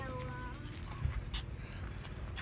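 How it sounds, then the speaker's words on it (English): A hunting dog pants and sniffs close by during an Easter egg hunt, with quick steady breaths and a few louder snuffles, while people talk in the background. "he has a hunting dog hunting for the egg"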